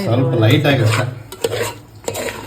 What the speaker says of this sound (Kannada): ವೈಟ್ ರೈಸಿಗೆ ಮತ್ತೊಂದು ಸ್ವಲ್ಪ ಖಾರದ ಪುಡಿ ಹಾಕಿ ಕಲ್ಸಾತಾರ